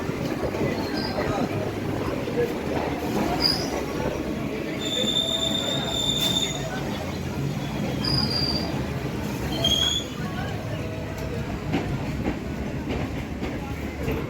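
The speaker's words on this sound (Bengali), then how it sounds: "এবারে আমাদের ট্রেন প্রবেশ করলো বড়বাজার স্টেশনে" A Kolkata circular rail train pulls into Burrabazar station, its wheels letting out several high, drawn-out squeals over a steady rolling rumble and clatter, close and continuous.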